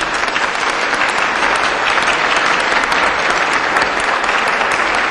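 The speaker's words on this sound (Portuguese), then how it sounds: "Eu peço um aplauso para ele." Steady, dense applause from an audience at a formal solemn session in the Brazilian Chamber of Deputies, honouring Dr. Rogério Ventura Teixeira; loud, continuous clapping without pause for the whole stretch.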